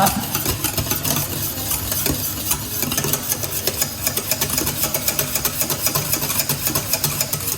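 Softened gelatin is stirred into warm lemon cream for a lemon meringue tart, making steady, rhythmic scraping strokes in the pan with a faint sizzle underneath, close and moderately loud, with no voices.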